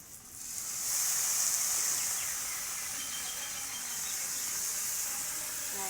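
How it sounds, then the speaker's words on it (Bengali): Soy sauce hits lightly fried chopped onions in a hot pan while chilli potato is being made. A faint, steady hiss swells quickly and then holds at an even sizzle for several seconds. "এবার এটার মধ্যে দিয়ে দেবো একটু সয়া সস,"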